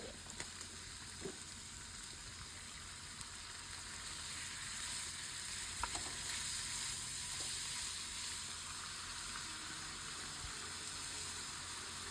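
Raw onion dropped into beef liver frying in oil, giving a steady broad sizzle throughout, a few soft clicks from the pan, no talking.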